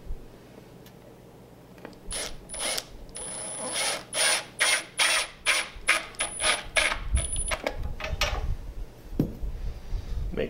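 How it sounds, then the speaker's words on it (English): Close metallic clicks and short ratcheting scrapes as a screw is driven to fasten a drawer handle onto an upcycled dresser, arriving in a quick series of bursts followed by a few scattered taps. "So we'll just go ahead and screw this on."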